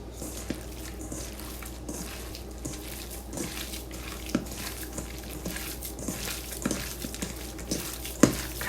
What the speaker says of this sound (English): Now what I like to do is I just like to use my hands to mix it all together.